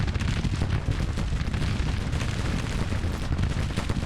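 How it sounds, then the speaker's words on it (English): Cavalry cannons firing in the Grand Tactician battle game, a dense continuous rumble of booming blasts rolling together without pause, loud and close. "Cavalry cannons."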